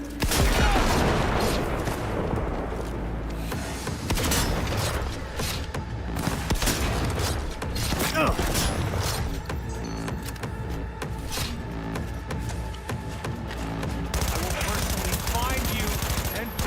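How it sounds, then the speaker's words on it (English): Rapid submachine gun bursts mixed with heavier shotgun blasts in the video game Cyberpunk 2077, loud and continuous with dense firefight noise throughout, no talking. "Submachine gun. And maybe the shotgun? Just going guns blazing."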